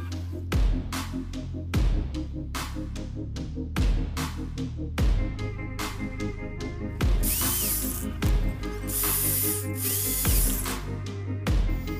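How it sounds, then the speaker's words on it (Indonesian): A power drill bores holes for bolts into a power bank case, in repeated short bursts of whirring that start and stop, with louder high-pitched grinding bursts toward the end. "Saya beri lem dan nanti akan saya beri lubang untuk bautnya."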